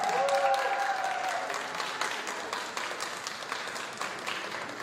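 Applause from the audience at a press conference for Dimash Kudaibergen at the 2021 Slavianski Bazaar in Vitebsk, steady and fairly loud throughout, slowly fading, with a faint voice near the start.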